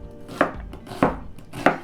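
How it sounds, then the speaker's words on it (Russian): A knife chops an onion into large cubes on a board, three sharp, evenly spaced cuts sounding close and clear with no talking. "Ну, я здесь не мельчу, режу лук таким вот крупным кубиком."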